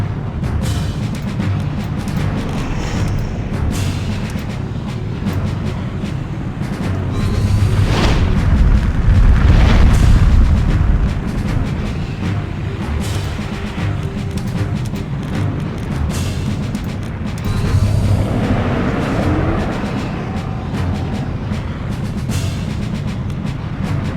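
Rocket explosions in the Septerra Core video game: heavy booming blasts over a rumbling low background, swelling into a long loud roar midway and another burst later, with no talking.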